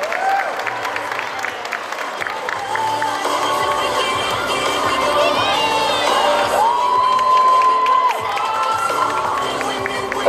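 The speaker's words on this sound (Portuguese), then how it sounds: "palmas para o nosso Dio" A crowd at a cosplay parade cheers and applauds for a costumed performer, with whoops and children's shouts rising over the clapping while music plays underneath.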